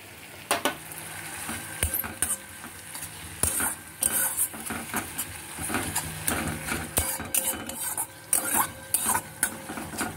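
Onions are stirred in oil in a pan for a mustard tengra fish curry, with repeated scraping and clattering strokes of a utensil over a soft sizzle and a faint steady hum, and no voices.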